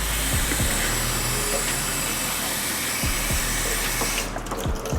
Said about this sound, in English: we're just gonna put some cold water over them